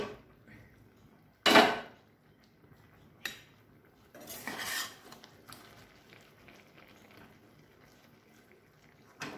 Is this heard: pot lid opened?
yes